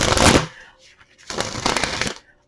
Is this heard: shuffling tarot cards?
yes